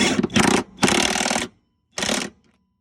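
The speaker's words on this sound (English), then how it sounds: "Go ahead and torque it." Power tool torquing a rear strut bolt on an Acura MDX during strut replacement, three loud bursts of buzzing rattle, each roughly half a second to a second long, close by with short pauses between.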